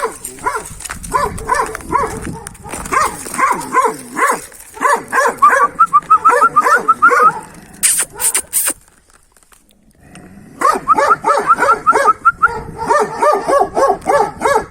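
A dog barks loudly and repeatedly at close range, rapid insistent bursts broken by a short quiet gap before the barking resumes just as intensely.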